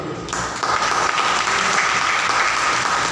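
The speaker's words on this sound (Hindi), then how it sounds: "जोरदार ताली दीजिए।" A church congregation gives loud, sustained applause. The clapping is steady and dense from start to finish, with some crowd noise mixed in.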